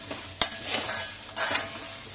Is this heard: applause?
no